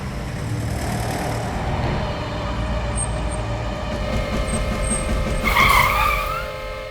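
Car engine and tires approaching at night on a forest road, a steady rolling drone that swells near the end with a brief squeal, no voices.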